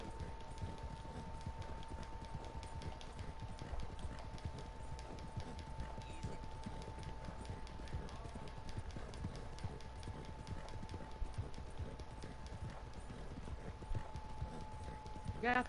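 Horse hooves gallop at a steady, rapid clip-clop in Red Dead Redemption 2, running continuously for the whole stretch under a constant tone and some background game sound.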